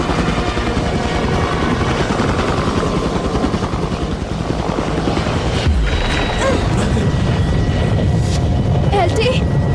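Heavy rotor chop and engine roar from a helicopter in an action film scene fill the whole stretch, loud and near, with a brief shift in the noise about midway.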